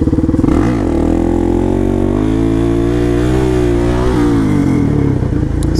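A supermoto motorcycle engine roars loud and close while the bike is held in a wheelie. The revs rise and dip gently around a steady throttle, and the buzzing engine drone never breaks.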